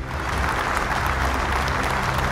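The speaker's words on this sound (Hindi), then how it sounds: "जोरदार तालियों से स्वागत करिए इनका।" A crowd claps steadily and warmly for a team at a Bible quiz competition, a dense, even wash of applause filling the room from start to finish.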